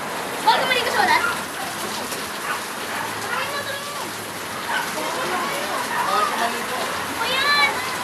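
Heavy rain pours down in a steady hiss on surfaces while children and adults talk and call out over it, with occasional splashing.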